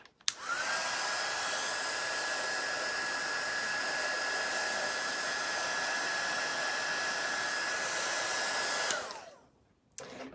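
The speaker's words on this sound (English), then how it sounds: "I'm gonna use my heat gun just for a second." A heat gun dries glitter on a papercraft poinsettia project, blowing a loud, steady whooshing hum with a faint whine for about eight seconds before switching off, followed by a short clunk.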